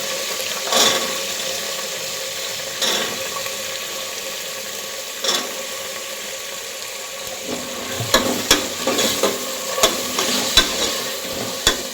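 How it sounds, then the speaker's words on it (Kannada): Soaked chickpeas and peas fry in oil with onion in a pan, a steady sizzle running underneath while a spoon scrapes and stirs at intervals, the stirring growing busier and more frequent toward the end. "ಈಗ ಇದನ್ನು ನೀಟಾಗಿ ಫ್ರೈ ಮಾಡ್ತೀವಿ ಎಣ್ಣೆಯಲ್ಲಿ ಕಾಳನ್ನ"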